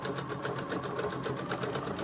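A sewing machine stitches a patchwork cover for a junk journal, its needle running in a steady rapid rhythm at close range for about two seconds with no talking.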